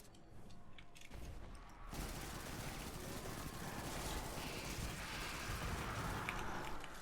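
Dense, continuous gunfire from the sci-fi shooter game Destiny 2: rapid overlapping shots and impacts that jump louder after a quieter opening second and then hold a steady barrage with no voices.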